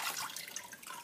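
Water trickles and splashes steadily as wet wool, soaked for lanolizing, is lifted from its bath and gently squeezed, a close, continuous pour of drips with no talking.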